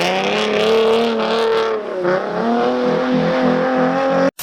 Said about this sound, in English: Will now is gonna do some donuts with smoke bombs taped to his bumper.